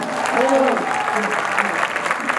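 Audience applause at a Hindi/Urdu poetry recitation, a steady dense clapping wash lasting throughout, with a voice speaking over it near the start.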